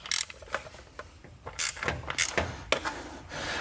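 The Vyper Chair garage creeper ratchets through its angle adjustment, a close series of sharp mechanical clicks and clunks at irregular intervals with no one talking.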